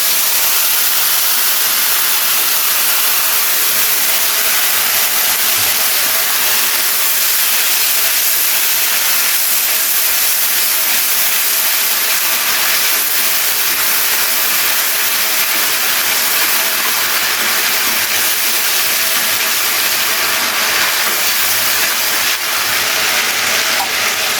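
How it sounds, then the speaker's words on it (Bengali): Marinated spice paste sizzles loudly and steadily in hot oil while a Gandhoraj tomato katla fish curry is cooked, a close, continuous frying hiss with no voices. "এবারে এই তেলের মধ্যে ম্যারিনেট করা যে মশলাটা সেটা দিয়ে দেবো।"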